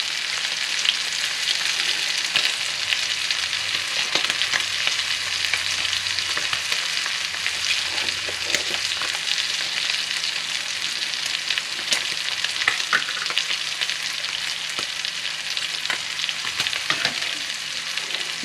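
Food fries steadily in a hot pan after garlic powder and onion powder go in, a loud, continuous sizzle broken by occasional stirring scrapes, close up with no talking.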